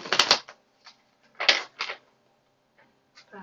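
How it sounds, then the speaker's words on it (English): A deck of oracle cards gets a quick shuffle, heard as several short papery riffles and flicks in separate bursts with quiet gaps between them, close by and fairly soft, with no talking. "I'll do a quick shuffle."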